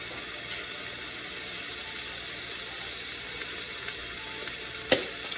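Seasoned meat with garlic powder sizzles steadily in a frying pan, a dense, even crackle and hiss throughout, with one louder pop near the end.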